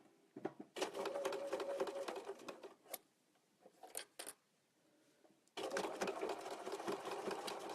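Sewing machine stitching fabric along its edge, running in fast rhythmic bursts with a pause in between, then starting again and running steadily, close and fairly quiet.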